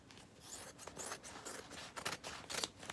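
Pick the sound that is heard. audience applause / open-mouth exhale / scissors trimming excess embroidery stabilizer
scissors trimming excess embroidery stabilizer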